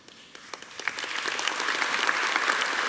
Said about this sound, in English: I was pausing for applause there, so that worked.